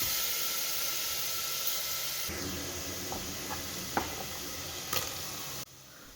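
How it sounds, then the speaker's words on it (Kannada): Spice masala frying in a small amount of pure peanut oil in a pan, a steady low sizzle with faint hiss, a few soft stirring clinks and ticks, no voices. "ಮಸಾಲೆನ ಹಾಕ್ಕೊಂಡು ಹಸಿ ವಾಸನೆ ಹೋಗೋವರೆಗೂ ನೀಟಾಗಿ ಎಣ್ಣೆಯಲ್ಲಿ ಫ್ರೈ ಮಾಡ್ಕೋಬೇಕು"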